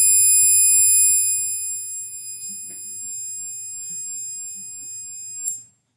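A thin, piercing 10 kHz whine from a SiC MOSFET power electronics setup holds steady for about five seconds, then stops; a faint low rumble sits underneath.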